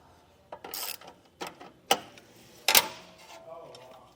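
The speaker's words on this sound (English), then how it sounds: "grabbing our socket wrench, and we're going to loosen this up now" A socket wrench ratchets in short clicking bursts as it loosens a shock bolt on a 2023 Jeep, a handful of separate close mechanical ratchet sounds with quiet gaps between them.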